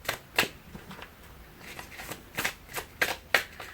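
A deck of L'Oracle des Reflets oracle cards by Célia Mélispine is shuffled close up, with repeated crisp riffling bursts and soft card slaps at an uneven rhythm, with no voices.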